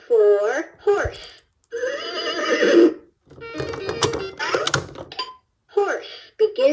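A VTech Teach and Travel Animal Train toy plays an electronic horse whinny several times in short bursts, with thumps and clicks between them, like handling a talking toy.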